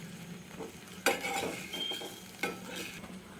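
An aloo paratha roasts in ghee on a griddle with a soft, quiet sizzle, broken by two sharp scraping clinks of a spatula; no voices.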